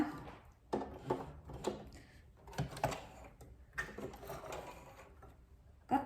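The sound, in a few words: sewing machine stitching a buttonhole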